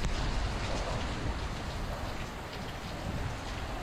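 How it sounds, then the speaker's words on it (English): Steady rain pours down outside a house during wet weather, a dense, even hiss with low rumbling underneath, continuous and fairly close throughout. "Under the rain."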